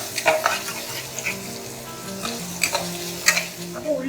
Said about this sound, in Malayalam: സവാള ഒരു ലൈറ്റ് ഗോൾഡൻ ബ്രൗൺ ആവുന്ന വരെ നമുക്കൊന്ന് വഴറ്റിയെടുക്കാം.